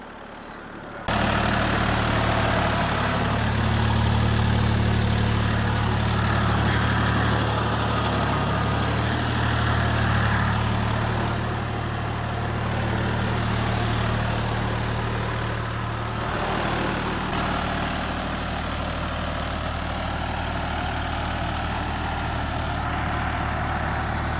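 A DTZ 5354 tractor engine plowing a field gives a steady, loud, low diesel drone with a constant hum that varies slightly under load throughout.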